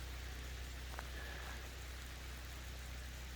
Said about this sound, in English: It's raining really nice.